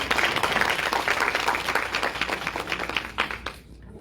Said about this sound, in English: give her a round of applause for your undivided attention.